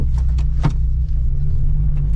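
A Vauxhall Nova on a short test drive, sump full of petrol, rumbles with a steady low engine drone from inside the car, with a few brief knocks and clicks over it.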